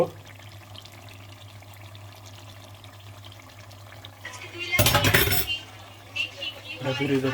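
Sour yogurt spooned into beef cooking in a pot, a loud burst of sizzling and splashing that jumps up near the middle, then settles back into a steady low simmer with some clinking.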